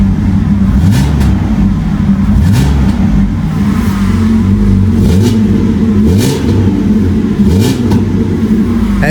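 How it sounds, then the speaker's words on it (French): BMW E36 engine with a full stainless steel exhaust system, given a few short revs at idle. Several loud blips rise and fall over a throbbing, rumbling idle, heard close and without talk. "Je vais me permettre 2-3 petits coups de gaz."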